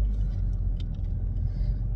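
A car is being parked, its engine giving a steady low rumble from inside the cabin with no rise in revs.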